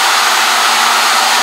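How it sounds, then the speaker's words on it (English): A CNC router table makes a dry run with its feed rate and rapids turned up, giving a loud, steady whirring drone that holds evenly for the whole moment. No one speaks. "I had the feed rate and rapids turned up just for these dry runs that I'm doing."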